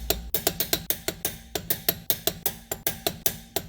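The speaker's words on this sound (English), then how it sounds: "Grab your torque wrench, set it to 103 foot-pounds or 40 newton meters" A torque wrench ratchets in a fast, even run of sharp clicks while tightening at the wheel hub of a 2014 Chevrolet Trax during ball joint work, close and alone.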